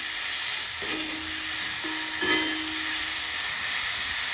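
Green chilli thecha being stirred in a pan over a gas flame, a constant close hiss of frying with two brief bursts of spatula scraping and a faint tonal hum, no talking.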